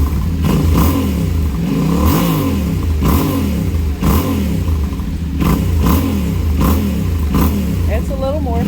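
A Yamaha Tenere 700 motorcycle fitted with an Arrow high exhaust, revved loud and close in a steady series of throaty bursts that rise and fall roughly once a second while idling between.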